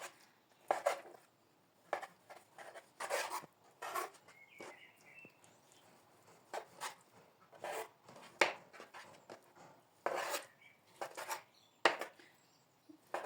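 A knife chops vegetables by hand on a board in a home kitchen, cut coarsely, with sharp, irregular strikes close up that come in quick bursts with short pauses between them, and no talking.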